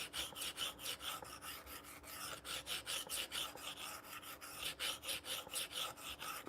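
A knife is sharpened with its burr passed back and forth across the abrasive. Steady rhythmic rasping strokes, about two per second, sound close and continuous with no talk.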